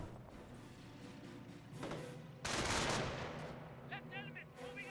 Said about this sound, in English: Sniper firing away.